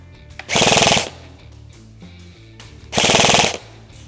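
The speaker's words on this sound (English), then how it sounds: "let's see how many BBs it's firing in a second" An Echo1 XCR polymer airsoft rifle running on an 11.1 volt LiPo fires two loud, close full-auto bursts of BBs, each lasting about half a second, separated by a quiet pause.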